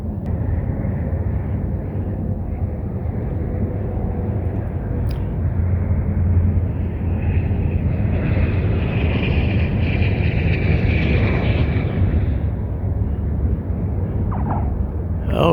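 A Piper Cherokee light aircraft lands on runway 31 at Grants, New Mexico, its engine a loud, steady broadband roar with wind noise throughout.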